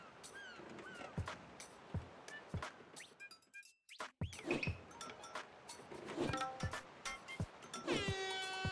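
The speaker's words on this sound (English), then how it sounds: "the freaking air horn whenever Big Man gets introduced" Air horn sound effect in the video game Splatoon Raiders, a blaring tonal honk rising near the end amid a busy mix of game noises, scratches and short bursts.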